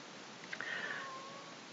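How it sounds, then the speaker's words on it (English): A kitten gives one drawn-out, thin meow, close and clear, that fades at the end against a quiet indoor background. "Oh, sorry, you're hearing a kitten."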